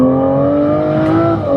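An Aston Martin Vanquish engine screams at high revs toward 7,500 RPM, a sustained loud whine holding steady with a brief dip near the end.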